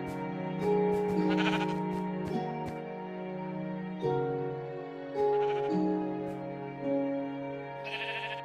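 Sheep in the Minecraft video game bleat repeatedly over a steady, layered background music track. Several short, nasal baas come at irregular intervals across the stretch.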